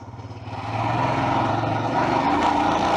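Royal Enfield Himalayan 411 motorcycle riding a wet, rain-soaked forest trail, its engine a steady, close, low droning hum that swells slightly and holds at constant throttle.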